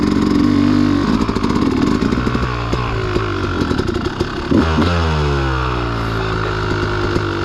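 A Yamaha dirt bike revs hard while riding through muddy terrain at a motorsports park, its engine climbing through gear changes with pitch sweeps rising and falling, loud and close, alone without talk.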